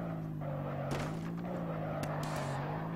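Engine of a car fitted with a rocket engine in the video game Earn to Die 2, a steady loud droning hum throughout, with a few sharp crunching impacts over it and no speech.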